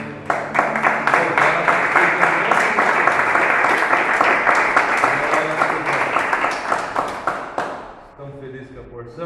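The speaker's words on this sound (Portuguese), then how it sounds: "Vamos dar uma salva de palmas." A church congregation breaks into loud, sustained applause with rapid overlapping claps for several seconds, then it fades and voices carry on.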